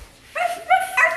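A person on all fours plays a dog on a leash and gives two or three short, loud, yelping barks in quick succession, a human voice imitating a dog.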